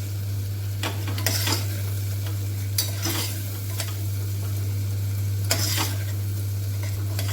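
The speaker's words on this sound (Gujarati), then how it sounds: "હલાવી લઈશું બધું બરાબર।" Potatoes with garlic chutney being stirred in a hot pan for a home-style masala potato-and-onion dish: a steady sizzle throughout, broken by repeated scraping strokes of the spoon, close and fairly loud, with no voices.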